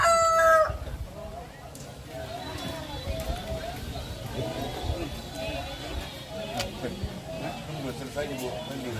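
A rooster crows in one short, loud call at the start, followed by chickens clucking faintly under steady talk and crowd noise at a traditional funeral ceremony at a Toraja tongkonan.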